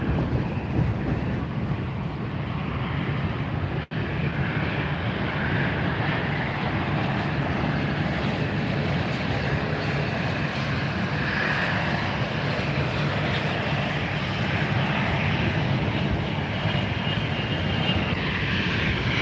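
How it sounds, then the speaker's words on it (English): A Douglas DC-3 propeller airliner taking off at Fort Lauderdale, a loud, steady engine roar filling the whole stretch with heavy wind buffeting the microphone and one brief dropout early on. "we also got to see a DC-3 taxi and takeoff."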